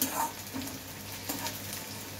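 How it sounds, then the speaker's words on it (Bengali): Onions frying in a pan, a steady soft sizzle with faint crackles throughout, fairly quiet and without any voices. "পেঁয়াজটা একটু লাল লাল করে ভাজতে হবে।"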